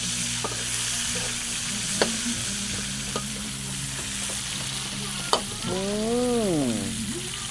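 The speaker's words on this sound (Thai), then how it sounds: "ข้าวผัดคอหมูย่าง" Fried rice with grilled pork neck stir-fried in a pan, steady loud sizzling with scattered clanks of a utensil against the pan and a rising, falling squeal near the end.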